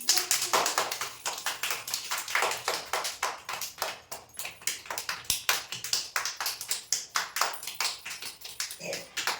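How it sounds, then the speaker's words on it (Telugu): A class of young children at an anganwadi clapping their hands loudly together, a dense run of sharp claps repeating steadily and close for several seconds, with no talking over it. "గట్టిగా ఒకసారి క్లాస్ కొట్టండి చూద్దాం"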